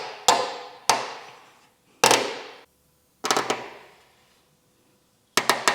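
Sharp metallic snaps and taps from new OEM brake line clips being fitted on a Mitsubishi Evo 8, about eight crisp close hits in uneven clusters, each decaying quickly into quiet.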